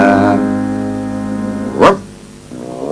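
A single loud dog bark bursts out sharply over a sustained tonal background sound, followed by a quieter tail.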